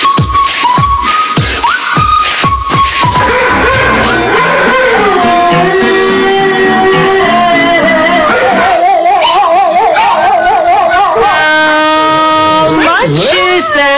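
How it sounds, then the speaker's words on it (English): Dogs howling and yowling in melodic, wavering tones along to loud music, entries in a singing-dog pet video contest on a daytime talk show, continuous and close throughout. "if you have a dog who can sing, send us your video"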